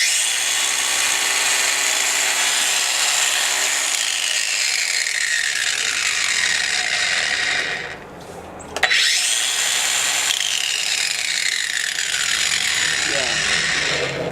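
A Craftsman CMCG400M1 cordless angle grinder powered by a 4.0 Ah battery gives a loud, steady high-pitched whine, spins down briefly midway, then whirs back up to full speed.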